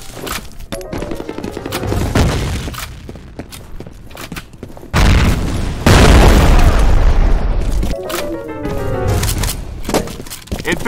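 A grenade blast in the online shooter F.E.A.R. Combat, a loud booming explosion with a long rumbling tail, set among bursts of assault rifle fire and radio-style voice callouts.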